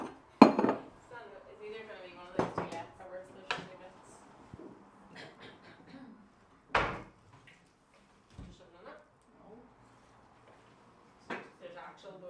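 Plates, bowls and forks being handled during a live cooking demo, a scattering of sharp clinks and clatters at irregular intervals with quiet gaps between, close by and fairly faint, with soft talking in places.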